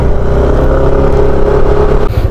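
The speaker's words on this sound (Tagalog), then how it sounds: "Sasayad nga ang aking tricycle." Motorized tricycle engine idling and running loud and close, a steady low mechanical drone with a brief dip near the end, no voices.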